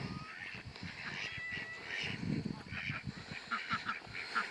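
Ducks on a farm calling in a busy, overlapping chorus of quacks and honks at close to middle distance, steady throughout with no talk over them.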